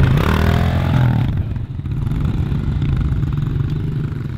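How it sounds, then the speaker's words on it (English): Dirt bike engine holding a steady throttle while riding over a tabletop jump, a loud, continuous mid-pitched drone that stays close and even throughout, with a brief rise near the start and no talking. "the momentum of the bike and the engine will automatically carry you over it nice and smoothly"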